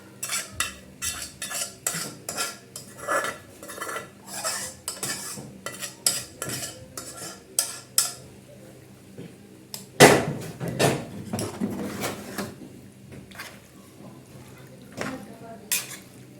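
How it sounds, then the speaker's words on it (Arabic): Ingredients for a chicken bake get stirred together in a pan in a home kitchen, with repeated close metallic clinks and scrapes of a utensil against the pan in an irregular rhythm. Brief moments of quieter activity fall between the stirs. "اقلب بقى كله بعض كده"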